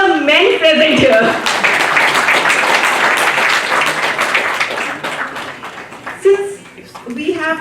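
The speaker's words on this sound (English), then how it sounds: "So a big round of applause for all the men present here." An audience at a gathering applauds the men present, loud continuous clapping that swells and then gradually thins, with voices and talk rising over it near the start and end.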